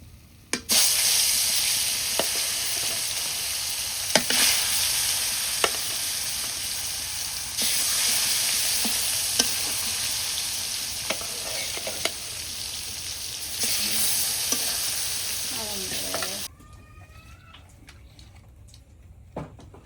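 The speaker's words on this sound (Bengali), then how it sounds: "মাছ ভাজা।" Small koi fish fry in hot oil, producing a loud continuous sizzle with occasional stirring clinks for about sixteen seconds, then a sudden drop to quiet kitchen sounds.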